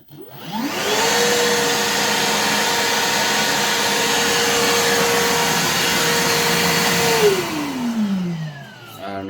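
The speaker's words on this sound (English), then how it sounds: "that is loud for a battery powered shop vac" A Milwaukee M18 Fuel battery-powered 2.5-gallon wet/dry shop vacuum spins up to a loud, steady whine and roaring airflow, holds there for several seconds, then winds down as the motor is switched off.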